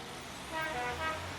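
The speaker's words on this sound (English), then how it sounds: "The school bus honked loudly." Two short, fairly faint honks of a school bus horn over a low engine hum.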